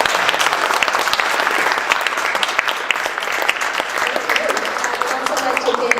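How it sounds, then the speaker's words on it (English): Sustained audience applause for panelists at a community book discussion, steady dense clapping filling the clip at a loud, even level from start to finish. "Can we have a round of applause for our awesome panelists?"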